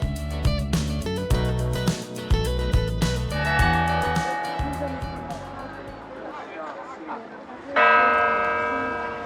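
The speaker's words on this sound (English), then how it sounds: "I am standing in front of its most famous landmark, the bell tower of the Cathedral of Messina" The bells of the Cathedral of Messina bell tower in Sicily ring out in a loud, resonant peal of overlapping strikes, heard outdoors under a voice.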